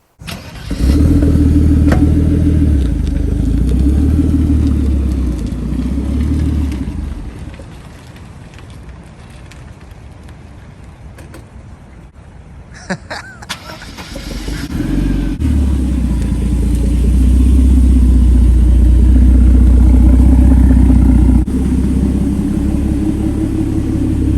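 A Mercedes-Benz M103 turbo engine runs strapped to a Dynojet 424 dyno, droning loud and close, easing to a lower idle midway, then swelling again into a heavy rumbling pull.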